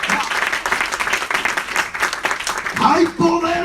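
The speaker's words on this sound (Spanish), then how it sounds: "Fuerte ese aplauso aquí." A church congregation claps in sustained applause while a preacher's voice carries over the top, the clapping dense and lively up close.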